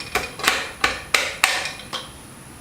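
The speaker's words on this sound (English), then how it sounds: "before we slide that in, we're going to tap it down" Several sharp metallic hammer taps, about six evenly spaced blows, as a piston part is driven down into place during an engine build; close and clear with no talk.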